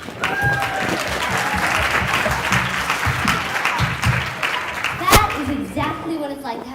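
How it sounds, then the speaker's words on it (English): Loud, dense applause from a crowd at a rock talk event, steady clapping throughout with scattered voices and a sharp whoop near the end. "Give a round of applause for them"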